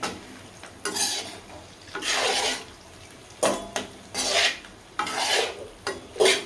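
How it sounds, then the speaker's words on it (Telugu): A spatula sweeps and scrapes through egg and potato fry with coriander in a pan, loud repeated stirring strokes in uneven bursts with brief pauses between. "కొత్తిమీర వేసుకొని తిప్పుకోవాలి"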